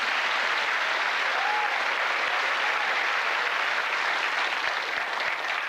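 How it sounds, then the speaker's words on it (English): A studio audience at a TV quiz show applauds contestants in the Beat the Buzzer round on the final day, a continuous, even roar of clapping that lasts several seconds. "Give them a cheer, please."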